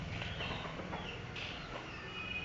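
A rooster of the Egyptian Misri breed clucks faintly in short, soft bursts against a steady hum of outdoor background noise.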